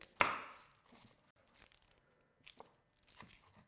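A sharp knife cutting through an onion on a board: one crisp, crunchy slice followed by a few softer, quieter cuts and rustles, close and faint.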